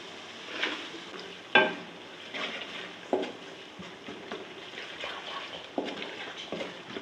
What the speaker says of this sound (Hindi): और मसालों को अच्छी तरह भून लेती हूँ।